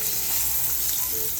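Filet mignon steaks searing in hot vegetable oil on a stovetop set to high heat, a loud, dense, constant sizzle and crackle close up, with no talking.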